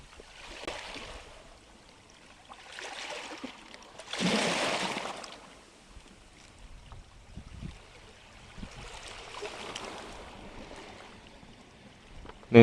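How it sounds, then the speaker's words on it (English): Brown, muddy English Channel water laps at the shore of a cove in soft, irregular washes, with one louder surge in the middle and quieter swells around it, faint and fairly close. "Lovely brown muddy water"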